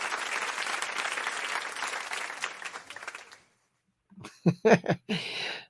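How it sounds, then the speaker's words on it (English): A small crowd at a pop-culture café gives a light smattering of applause that fades out after about three seconds; a short silence follows, then a voice starts talking. "So there's a little smattering of applause."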